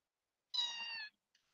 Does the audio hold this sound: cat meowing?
yes